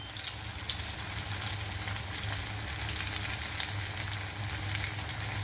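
Sabudana (sago) fritters sizzle in hot oil, a steady crackling fry with fine popping bursts and a low constant hum underneath, close and continuous.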